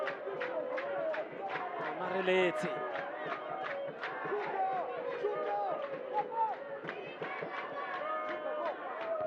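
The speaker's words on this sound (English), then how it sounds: "the crowd here for Malawi is really vocal. Can clearly hear them singing here" Malawi fans singing and chanting in a stadium crowd at a COSAFA U20 youth championship football final against South Africa, a steady rhythmic mass of voices with sharp repeated beats, heard at a distance under a commentator's voice.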